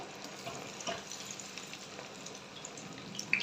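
Sabudana (sago) french fries frying in hot oil on full gas, a steady soft sizzle running throughout with faint crackles and a small spatter near the end.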